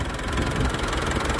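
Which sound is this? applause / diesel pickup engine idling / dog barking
diesel pickup engine idling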